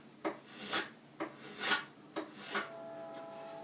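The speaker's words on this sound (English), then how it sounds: "I can work with the draw knife" A draw knife shaves wood on a bowl carving horse in a few separate rasping strokes, each a short scraping pull with a pause between, close and fairly clear.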